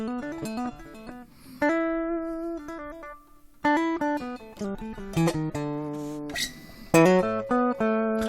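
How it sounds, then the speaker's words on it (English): Unamplified semi-acoustic electric guitar picking out single notes and short phrases, thin and woody, played close with small pauses between runs. "the sound you're hearing there is just its own body and the microphone picking it up because it's semi-acoustic"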